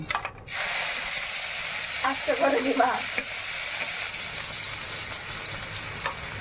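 Chopped green chilies and crushed garlic fry in hot oil in a pan while egg chow mein is cooked. A steady sizzle is heard with brief stirring scrapes, and someone speaks briefly at the start.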